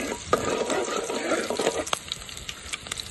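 Green chillies dropped into hot oil for a fish curry, a close, dense sizzle and crackle that slowly eases over a few seconds, no voices.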